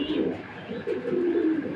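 Fancy domestic pigeons coo softly in a loft, a few low throaty murmurs rolling into each other, close by and gentle with no talking.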